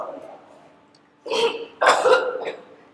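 Two rough, throaty coughs close by, following a short stretch of quiet, low sound.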